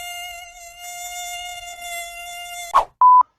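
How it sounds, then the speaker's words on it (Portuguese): A mosquito whines close by in a steady, high thin drone for almost three seconds, then it cuts out and two short, sharp tones follow. "Tem pernilongo aqui, hein, cara."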